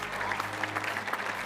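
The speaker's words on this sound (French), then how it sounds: "On peut l'applaudir bien fort." Audience applause at a bakery competition award ceremony, clapping steadily and moderately loud through the short stretch as a pastry chef is welcomed on stage.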